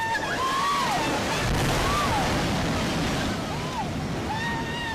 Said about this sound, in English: And that was the scene last week, and what a powerful rainstorm.